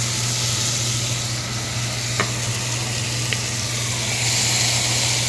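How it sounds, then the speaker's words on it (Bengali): Yogurt-and-spice marinated chicken goes into lightly fried onions and sizzles loudly and steadily in the pan, a dense hiss with a couple of faint clicks. "পেঁয়াজটা সামান্য একটু ভেজে নিয়ে একটু কাঁচা কাঁচা থাকবে, এরকম অবস্থায় এর মধ্যে আমি দিয়ে দিচ্ছি ম্যারিনেট করা"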